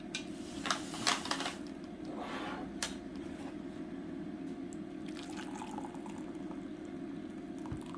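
Water pours steadily into a pan, a continuous liquid rush with a few clinks and splashes near the start.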